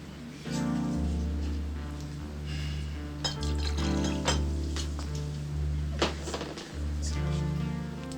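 A drink is poured into a glass, a liquid splash with several clinks and knocks of glassware over a low steady hum, fairly close and without talk.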